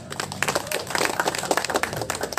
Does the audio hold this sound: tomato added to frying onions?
no